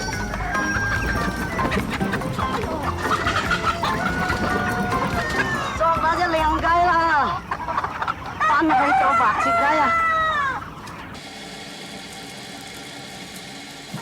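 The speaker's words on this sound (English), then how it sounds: "She has to use an active 4-month-old hen." Xinghua chicken hens cluck loudly and steadily, with a rooster-like crowing call among them, over a low engine hum before the flock noise drops away near the end.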